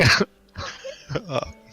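A cough bursts out at the start, followed by a pause and a couple more rough throat sounds, close and fairly loud.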